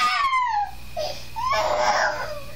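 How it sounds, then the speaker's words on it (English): A young boy lying on the floor screams and cries in a home, high wailing bursts broken by short gasping pauses, close and loud with no other talk. "He's on the floor screaming."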